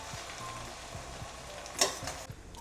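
Egg fried rice being stirred in a pan, a soft steady sizzle with rhythmic scraping strokes of the spatula and one brief louder clatter near the end.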